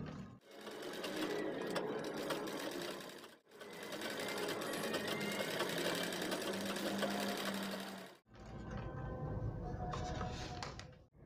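A sewing machine stitching fabric in a basic sewing practice, running in three steady bursts of fast whirring with short pauses between them, close and clear.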